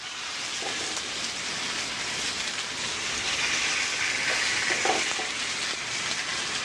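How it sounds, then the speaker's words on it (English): Fish fillets sear in olive oil with a continuous, even hiss and crackle throughout, near and fairly loud, without speech. "The fish is seared in olive oil."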